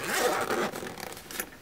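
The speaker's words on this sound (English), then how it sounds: "Double zippers." Double zippers on a weapons go bag being pulled open, a quick rasping zip sound that is close and fairly loud, trailing off into lighter scratchy fabric noises.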